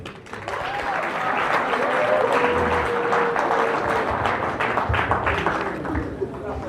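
A conference audience claps in a dense, sustained round of applause at a youth leadership event, steady throughout with a faint voice underneath.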